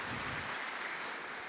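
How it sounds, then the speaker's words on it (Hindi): An audience at a spiritual cleanliness gathering claps steadily, a dense wash of hands with no talk over it. "ताली बजाओ उनके।"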